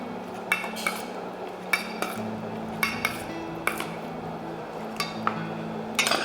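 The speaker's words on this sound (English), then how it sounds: "Mix everything." A spoon mixes strawberry ceviche with seafood in a bowl, giving a steady series of sharp utensil clinks against the dish over a low background hum, close and regular.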